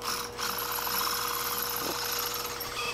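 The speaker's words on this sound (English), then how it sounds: "But once you get it in there and it doesn't grab on you, you can drill it." Power drill boring out a broken lug nut on a car wheel, a continuous gritty whir of metal cutting that holds steady and close throughout, with no talk.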